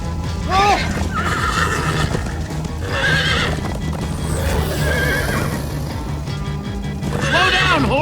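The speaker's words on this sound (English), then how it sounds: "Slow down, horse!" Horses in the Minecraft Story Mode video game whinny repeatedly and gallop with steady hoofbeats, loud and close, over a constant game soundtrack bed, with voices speaking between the neighs.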